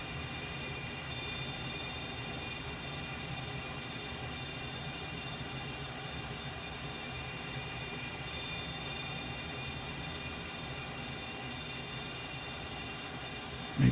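T-37B Tweet twin-jet trainer taxiing in Flight Simulator, a steady, loud engine drone with a continuous broadband rumble and faint high whine that holds level throughout, ending in a brief sharp knock.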